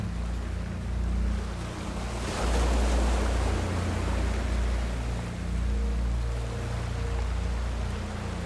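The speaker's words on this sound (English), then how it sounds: "Can you hear the sounds of the beach rocks as the waves push them up, and then they all roll down the incline?" Surf on a pebble beach, waves washing up and dragging loose rocks back down the incline with a steady rolling rush, swelling louder midway, with low wind rumble throughout.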